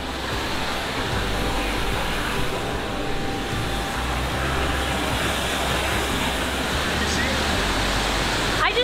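Waterfall in Pokljuka Gorge near Bled, Slovenia, a loud steady broadband roar of falling water filling the whole stretch, close and unbroken.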